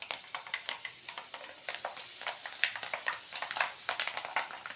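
Fenugreek seeds for a bitter gourd pickle fry in hot oil, heard close and fairly quiet as a continuous crackle with frequent sharp pops and sputters. No one speaks.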